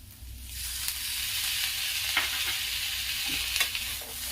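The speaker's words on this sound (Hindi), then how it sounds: "इसे मैं लगभग 3-4 मिनट भूनूंगी।" Close sizzling and frying in a pan as peas are sautéed with ginger-garlic paste, with a few scrapes as they are stirred, steady and fairly quiet.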